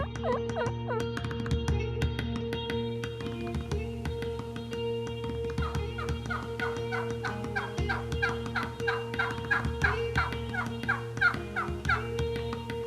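Wild turkeys in New Mexico gobble repeatedly, rapid rattling calls that come in overlapping bursts, some near and some farther off, over a steady low hum.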